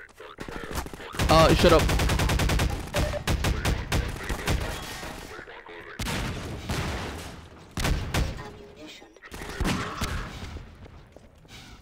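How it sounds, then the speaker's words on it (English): Rapid bursts of pulse rifle fire in a video game crackle loudly and repeatedly across the clip, in sustained volleys with short gaps, while a player talks over the shooting. "Oh, it's an assault rifle? Question mark? Pulse rifle."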